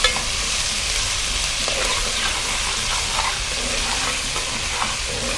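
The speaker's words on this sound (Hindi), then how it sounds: "आपने देख लिया मैंने प्याज कितनी फ्राई की है, बस थोड़ा सा ही फ्राई करेंगे।" Onions fry steadily in a pot as they are stirred, a dense, loud, continuous sizzle with occasional soft scrapes, no voices over it.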